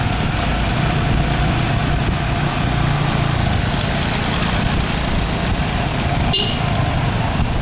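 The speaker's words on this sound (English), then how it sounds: "There he goes beeping again." Dense Saigon street traffic roars steadily with engine drone, and a short vehicle horn beep cuts through near the end above the constant noise.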